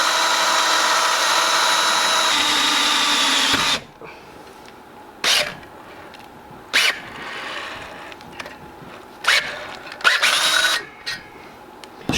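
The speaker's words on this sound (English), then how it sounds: "drilling the hole after doing powder coat" Power drill boring a hole through a powder-coated wheel rim, first a loud continuous whine for several seconds, then a quieter stretch broken by a series of short, sharp bursts of drilling.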